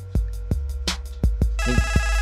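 A mobile phone ringtone plays in a studio, a bright melodic tone that swells in near the end after a few sharp knocks and taps.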